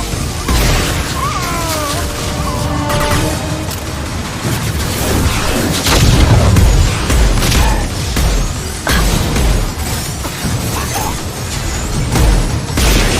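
A heavy weapon fires and explodes in Mass Effect 2 amid loud, continuous battle noise, with booms, crashes and mechanical clatter layered throughout.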